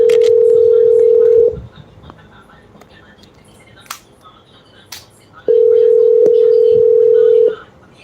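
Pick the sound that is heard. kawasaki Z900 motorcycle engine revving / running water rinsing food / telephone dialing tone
telephone dialing tone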